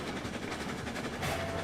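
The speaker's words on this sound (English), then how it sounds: "Is the train bouncing a little bit?" Faint, continuous rumble and clatter of a train running on rails in the video game Railroads Online, a brief steady wash of noise with a thin tone near the end.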